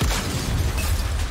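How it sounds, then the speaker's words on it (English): A frag grenade explosion in the Gears 5 video game, a dense, loud, sustained roar of blast and debris filling the whole moment, with no talk over it. "Throw frag!"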